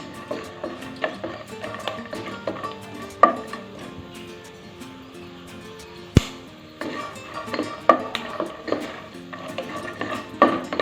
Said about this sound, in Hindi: हमने 2 मिनट जो है मूंगफली को भून लिया है अच्छी तरह से